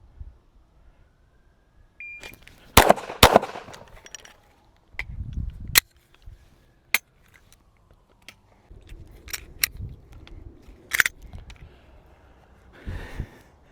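Glock 17 Gen 6 pistol shots, sharp loud cracks spaced irregularly across a left-to-right transition drill, with quieter handling noise and low rumbles between shots.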